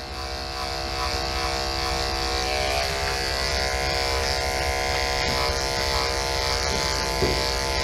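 Electric clippers shave a German Shepherd dog with a loud, continuous close-up motor buzz that holds steady throughout.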